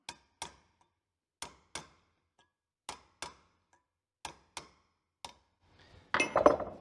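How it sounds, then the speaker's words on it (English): A blunt, deliberately radiused cold chisel struck with a hammer against a piece of sheet metal during a rusty door repair, about ten sharp, separate metallic taps in an uneven rhythm, then a brief burst of louder noise at the end. "one of my favourite tools is a blunt cold chisel, and it's deliberately radiused in this way. We can work our piece of sheet"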